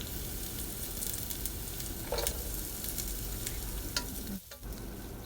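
Cut onions sauté in a hot pan for restaurant-style chilli chicken, a steady close sizzle with faint stirring scrapes and a brief deeper clatter near the end.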